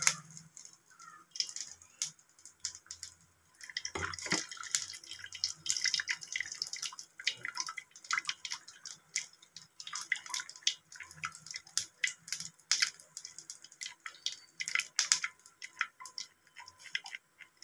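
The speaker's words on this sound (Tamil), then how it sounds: "அரைச்சி வச்சுருக்க சூப்பை இதில் வடிகட்டணும்" Blended vegetable soup poured through a strainer, a wet, irregular patter of drips and trickles that starts and stops, close and fairly quiet, with no voices.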